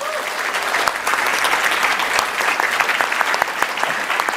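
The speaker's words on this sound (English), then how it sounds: "So give yourselves a big round of applause." Audience applause at the EGX 2014 gaming expo after a Total War: Attila announcement, a loud sustained wash of clapping from a large crowd throughout.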